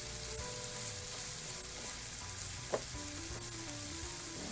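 Chicken innards fry in a pan for dinuguan, with a steady crackling sizzle and occasional scrapes from stirring, continuous and close.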